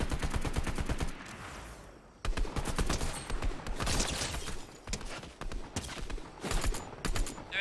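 Fortnite gunfire rattling in rapid, dense bursts of close shots, a sustained fusillade that pauses briefly and then resumes just as hard, loud and upfront throughout.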